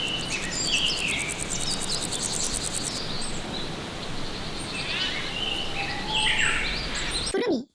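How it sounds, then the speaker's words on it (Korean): Various birds chirp along a rocky path through a green tea plantation in Boseong, with insects buzzing steadily throughout and scattered calls rising near and far. "다양한 종류의 새들이 지저귀고"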